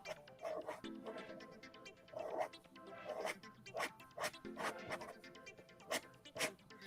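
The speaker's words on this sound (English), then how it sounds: "I hear my dog barking outside." A dog barks repeatedly at a distance, the sharp barks muffled as if coming from outdoors, with faint rustling nearby.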